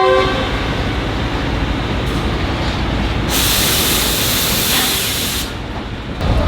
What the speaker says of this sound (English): This train is setting off on the 5-hour journey